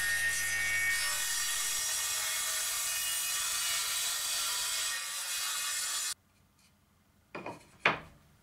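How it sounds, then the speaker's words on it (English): A homemade track saw cuts wood with a loud, sustained high-pitched whir for about six seconds. It stops abruptly and is followed by brief clunks and handling noises. "For this job I use my track saw."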